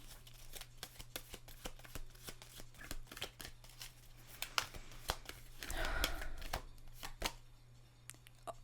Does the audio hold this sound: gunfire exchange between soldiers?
no